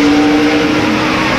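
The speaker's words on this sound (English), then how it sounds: "Let's go on board and listen to the engine." A loud NASCAR Winston Cup stock car engine drones steadily on board at Richmond International Raceway, its note easing slightly as the throttle lifts, with no voices.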